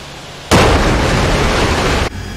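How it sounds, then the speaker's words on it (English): Gunfire in the DCS combat flight simulator erupts as one loud, continuous burst lasting about a second and a half, cutting in suddenly and stopping abruptly. "Gunfire."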